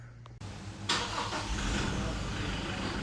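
A quiet idle gives way to a starter crank, then the 2.8-litre diesel engine of a 2025 Toyota Fortuner Hybrid SUV catches and settles into a loud, steady rumble nearby.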